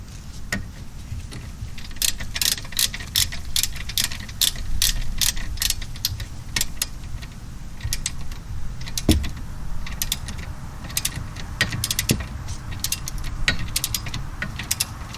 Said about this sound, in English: Starting to tighten up now. When it clicks, it's good.